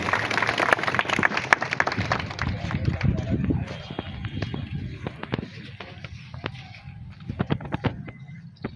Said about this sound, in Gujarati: આપણે સૌ તાળીઓના નાદથી વધાવીએ